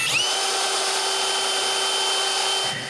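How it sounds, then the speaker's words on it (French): A power drill bores a hole through a wooden nutcracker to fit a speaker, giving a steady high motor whine with a strong tonal hum that runs loud and close for nearly three seconds before it cuts off. "Je perce donc un trou pour mettre le haut-parleur à l'extérieur."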